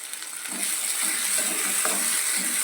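Tomato masala sizzles steadily in a pan for a prawn curry, a dense continuous frying hiss with a few soft stirring scrapes, close and alone with no talk.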